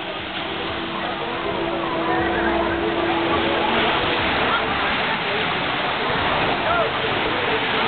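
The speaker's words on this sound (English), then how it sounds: "This is the beach in Negril." Steady, loud wash of surf rolling onto the beach at Negril, Jamaica, a continuous broadband roar recorded close with wind-like noise and no clear individual wave breaks.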